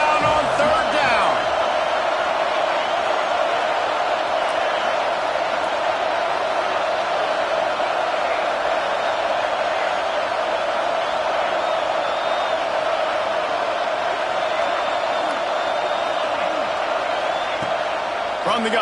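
A packed football stadium crowd roars as the Florida Gators face third down, a loud, continuous wall of cheering and noise under a commentator talking throughout.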